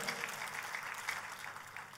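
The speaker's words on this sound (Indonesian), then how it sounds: "Tepuk tangannya boleh yang meriah buat Tuhan kita." A church congregation applauds during a sermon, a soft, continuous wash of clapping from a roomful of people, fairly distant and steady, with no talking over it.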